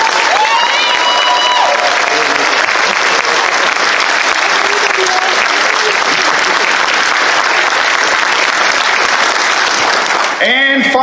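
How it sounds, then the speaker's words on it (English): A large convention crowd at a closing ceremony applauds loudly and steadily, dense clapping filling the whole stretch with scattered voices and a few whistles mixed in, cutting off abruptly near the end. "Can we get a quick round of applause for that group?"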